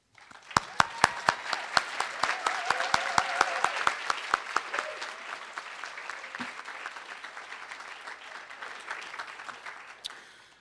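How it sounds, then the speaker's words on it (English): A crowd at a Martin Luther King Jr. community unity dinner claps for the event planners, a sustained round of applause that fades out as sharp individual claps continue near the end. "give you all a round of applause"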